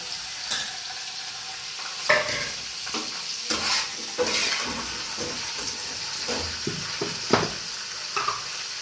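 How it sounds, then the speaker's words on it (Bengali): Potato, onion and green chilli fry in hot oil with a steady sizzle, punctuated by frequent sharp stirring scrapes and clatters of a spatula in the pan, close and fairly loud. "তেলটা গরম হয়ে গিয়েছে, এবারে আমি এই আলু পেঁয়াজ আর কাঁচা লঙ্কাটা এর মধ্যে ছেড়ে দেবো।"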